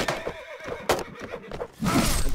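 A horse neighs in a real-time strategy video game battle, a loud whinny with hoofbeat clatter and other battle noises around it, and no talk.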